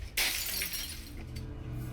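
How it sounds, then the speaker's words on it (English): Glass shatters in a TV drama scene, a loud sudden crash followed by tinkling, scattering shards and low rumbling room noise. "And she smashes stuff."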